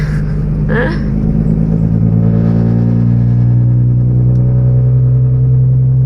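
Car engine and exhaust droning loudly and steadily up close, a deep sustained rumble with a rising tone, as a vehicle carrying sand travels for flood relief.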